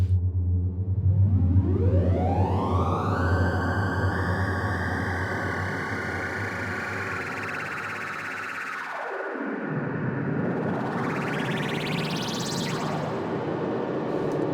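Ambient drone from free-running, LFO-modulated oscillators in Renoise, a sustained synthetic tone whose pitch slowly rises and sweeps, dips sharply, then climbs again in a bright swoop over steady hiss.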